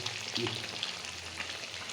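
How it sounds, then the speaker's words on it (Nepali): Fish frying in a pan at home, a dense steady sizzle and crackle of hot oil close by, with faint stirring scrapes. "यहाँ हेर्नुहोस्, माछा फ्राई हुँदैछ।"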